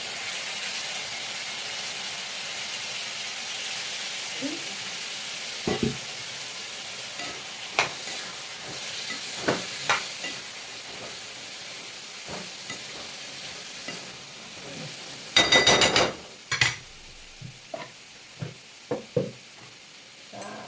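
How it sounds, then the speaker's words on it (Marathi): Vegetables with peanuts and salt being sautéed and stirred in a pan, a steady soft sizzle underneath with several sharp scraping and stirring clatters of a spoon, a louder burst of rattling near the end. "आता ह्याला छान असं मीठ घालून नुसतं परतवायचं"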